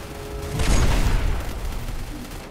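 A grenade launcher fired in the Free Fire shooter game, with a heavy blast that swells into a long rumbling, crackling roar and slowly fades.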